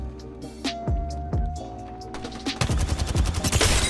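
Gunfire in the Apex Legends video game, with a few isolated shots followed by a rapid burst of automatic fire, loud and close.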